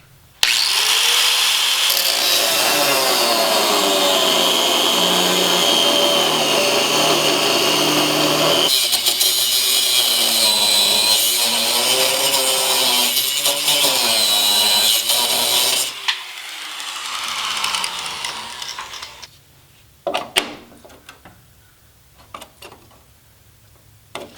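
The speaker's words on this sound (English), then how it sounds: "I think it'll be easier just to cut a little bit off the bottom of that nut there." A power tool cuts a little off the bottom of a nut during a rocker panel replacement, grinding loudly and steadily for about sixteen seconds with a shifting whine, then stopping, followed by a few scattered clanks.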